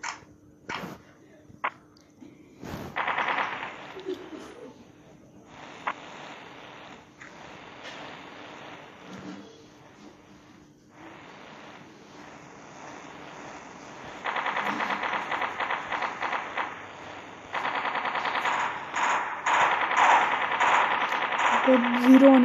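Rapid machine gun fire from a mobile shooter game (Mini Militia), with sharp isolated shots early and then sustained bursts of automatic fire that grow louder toward the end, with someone talking over the gameplay.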